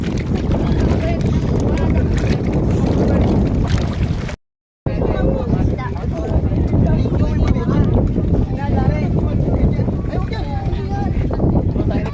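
Loud rumbling wind and water rush from a moving boat, buffeting the microphone continuously, with a short dropout partway through.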